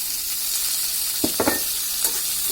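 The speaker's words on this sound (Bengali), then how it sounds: "এই তেলের মধ্যে শুটকিটা দিয়ে তারপর মশলাগুলো আমরা এর সাথে অ্যাড করব।" Washed dried fish (shutki) fries in hot oil with a steady close sizzle, broken by a few quick stirring scrapes near the middle and one more toward the end.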